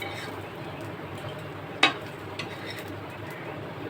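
Garlic fries in oil in a pan with a soft, steady sizzle close by, broken by a sharp clink of a utensil against the pan and a few fainter taps.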